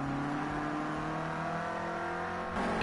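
A Renault Clio Cup race car engine revs hard in the racing game Project Cars 2. It holds a steady, loud, sustained drone with a sharp shift in pitch near the end, and no voices are heard.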